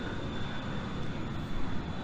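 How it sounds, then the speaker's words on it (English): A jet aircraft passes overhead, heard as a steady, broad roar of engine noise that fills the whole clip with no one speaking. "another jet flying by."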